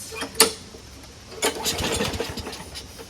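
Small gasoline lawn mower engine after a carburetor cleaning, a sharp pull-start tug, then a rough sputtering crank of about one and a half seconds, close and moderately loud, with no clear catch.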